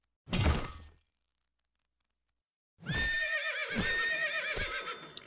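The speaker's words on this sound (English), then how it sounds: "I'm gonna chase his other horses." Video game horses neigh loudly, a short burst followed by a pause, then a long stretch of wavering whinnies over clattering hoofbeats and scattered crashing thuds.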